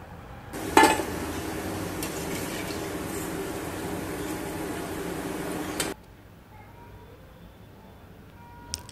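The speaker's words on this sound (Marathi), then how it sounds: "आता याचप्रमाणे मी बाकीचेही भजी तळून घेणार आहे" Corn bhajis frying in oil make a steady bubbling sizzle that starts with a brief clatter, holds evenly for about five seconds, then stops abruptly, leaving faint background noise with no talk.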